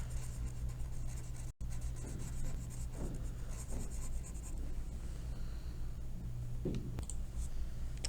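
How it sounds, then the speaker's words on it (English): Colored pencil rubs on paper in circular blending motions, a soft, continuous scratchy whisper with gentle rhythmic swells, close but faint over a low background hum. "So I'm still using circular motions to blend these two together."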